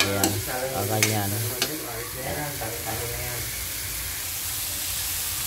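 Cabbage and bottle gourd sautéing in a little oil, a steady sizzle with a few spatula scrapes and brief voice-like sounds early on, fading to an even hiss.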